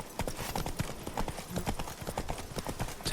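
Quick, steady hoofbeats of a horse clip-clopping in The Witcher 3 video game, close and fairly loud, with faint game ambience behind them.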